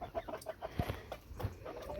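Rooster clucking in an aviary among other roosters and hens, a run of short, soft repeated clucks at close range, with a few louder low bursts in between.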